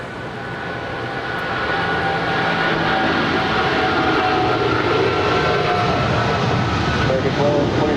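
An American Airlines airliner on runway 25 right at LAX gives a loud, steady jet engine roar that swells over the first seconds and holds.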